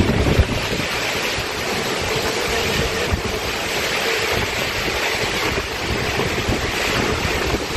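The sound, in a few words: rain with strong wind in Bangkalan, Madura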